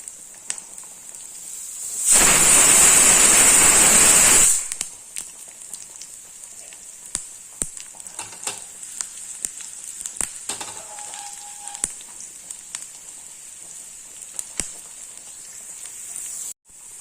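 Onion and curry leaves hit hot oil in a pan for a sambar tempering, giving a loud burst of sizzling that lasts about two seconds and then drops to faint crackles and pops.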